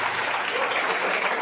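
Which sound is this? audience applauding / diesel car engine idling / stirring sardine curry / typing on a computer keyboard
audience applauding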